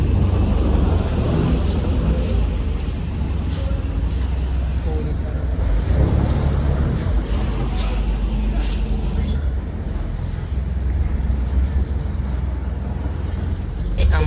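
A ferry boat crosses the water at Fort Kochi. A steady, loud low engine drone runs throughout, mixed with wind buffeting the microphone.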